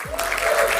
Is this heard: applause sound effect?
yes